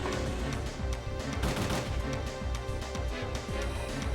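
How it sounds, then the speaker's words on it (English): Upgraded rifle firing in the Parasite Eve 2 video game: a rapid, steady stream of punchy gunshots, moderately loud, layered over game ambience for the full few seconds. "now you're seeing the upgraded rifle that I'm using"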